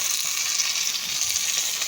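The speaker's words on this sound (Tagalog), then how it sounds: "Ilagay ko na yung kamatis." Tomato hits a pan of sautéing garlic and onion, giving a steady, close, bright sizzle that holds evenly throughout with no talking.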